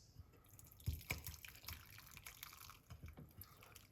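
Garlic and lemon tea being poured off, soft trickling and dripping liquid with a few small splashes, quiet and close.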